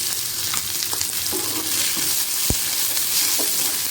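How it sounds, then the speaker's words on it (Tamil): Sliced onions sauté in a hot pan for pasta Manchurian, giving a steady close sizzle with scraping stirs and one sharp clink of the utensil. "வெங்காயமெல்லாம் ரொம்ப வதங்கணும்னு இல்லை"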